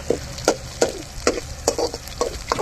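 Sliced onions frying in a pan for village-style chilli chicken pallipalayam, with about eight rhythmic scrapes of a spatula over a soft, continuous sizzle, close up and with no talking.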